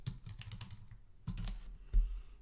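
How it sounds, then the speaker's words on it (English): Typing on a computer keyboard, a quick run of light clicking keystrokes, a pause, then a few more taps and a firmer final keypress, close and alone without talk. "I'm going to type in Google Groups."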